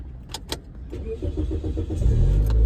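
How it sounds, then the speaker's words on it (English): A car maneuvers slowly to park in a Walmart parking lot after a storm, its engine a low rumble that swells closer and louder toward the end, with a couple of brief sharp knocks early on. "I'm not moving till this car figures out how to park"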